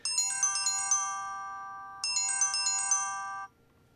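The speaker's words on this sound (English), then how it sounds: "that's actually some other phone call" A melodic phone ringtone for an incoming call plays in two clear bursts of about one and a half seconds each, separated by a short pause, fairly close and with no talking.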